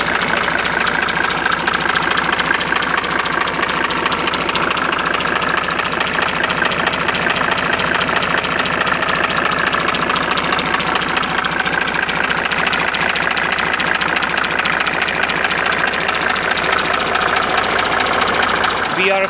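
A cold Mercedes OM603 diesel engine idling with a rapid, even clicking knock, loud and steady throughout and heard up close.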